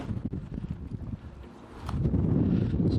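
Gusty wind buffets outdoors in a garden, with rumbling blasts against the microphone that swell and ease before a stronger sustained gust near the end.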